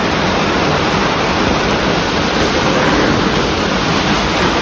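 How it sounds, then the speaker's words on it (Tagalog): Heavy rain pours steadily outside a home in Japan, a dense, constant roar of falling water that is loud and unbroken throughout, with no voices. "Sobrang maulan dito sa amin."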